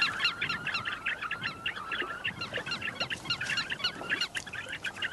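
A dense colony of silvery grebes calls nonstop, many overlapping chattering, honk-like notes at close to middle distance over a steady wash of background noise, with no voices.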